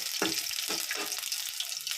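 Garlic frying in oil for coriander rice, a steady crackling sizzle with a few soft stirring scrapes, close and moderately loud, with no talking.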